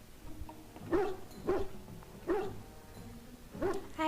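A dog in Dragon Age Origins gives four spaced barks mixed with whimpering yelps, moderately close, over a low background hum.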